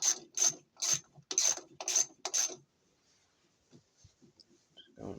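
A hand ratchet tightening bolts on an LG washer stator, giving about six sharp rapid clicking bursts up close, then going quiet with faint handling noises before a brief rustle.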